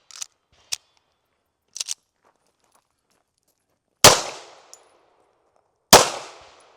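A pair of handgun shots fired at a deliberate, corrective pace, each a sharp loud crack with a short decaying tail, about two seconds apart, preceded by faint clicks and handling noises.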